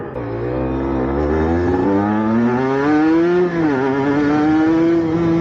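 A 125cc motorcycle engine revs loud and close, its pitch climbing steadily and dipping briefly before rising again.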